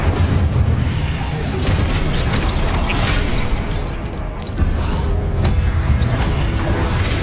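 Incendio fire spell in Hogwarts Legacy, a dense, loud roaring blast with booming low rumble and crackling bursts, sustained throughout with a brief dip and renewed surge partway.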